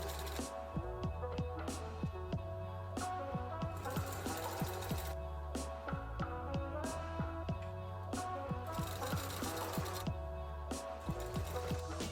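A domestic sewing machine stitches elastic sandwiched between two layers of dress fabric, running in a steady continuous whir with short pauses and restarts, close and fairly loud throughout.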